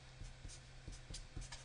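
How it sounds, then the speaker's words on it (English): Marker or chalk writing on a board during a geometry lesson, a run of short scratchy strokes at a steady rhythm, close and fairly quiet, with no talking. "Do I have space to? Yeah, I can write that here."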